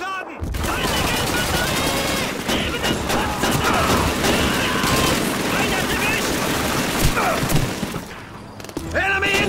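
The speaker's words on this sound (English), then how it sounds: "Machine gun MG-42!" Sustained MG-42 machine gun fire in a Call of Duty 2 battle in Stalingrad, loud and dense bursts with crashes and explosions, shouted voices mixed in throughout.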